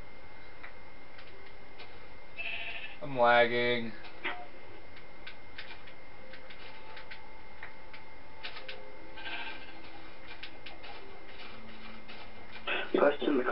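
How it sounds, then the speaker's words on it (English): Sheep in the Minecraft video game bleat in a short burst of several stacked calls, with a few fainter bleats later, over steady background hiss while a player talks briefly. "Sheep!"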